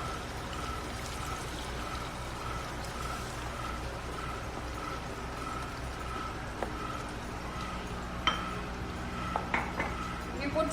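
Hot water pours in a steady, soft stream into simmering Mughlai chicken gravy in a pot, with a few faint clinks of utensils near the end.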